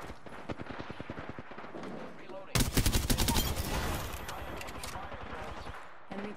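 Gunfire in a shooter video game, with rapid automatic bursts and then a loud, dense fusillade that fades out. A voice speaks over parts of the shooting.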